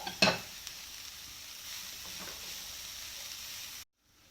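Carrots and leeks stirred in a hot pan, a short clatter of the spoon near the start, then a steady close sizzle of frying that cuts out abruptly near the end.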